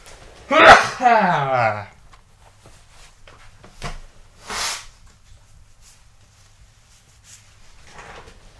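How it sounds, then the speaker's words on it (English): A single loud, close sneeze bursts out with a sharp inhale and release, followed by a few soft knocks and faint shuffling. "I'm gonna sneeze."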